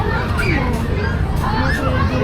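Many children play together, their overlapping shouts and chatter forming a loud, steady, busy wash of young voices throughout.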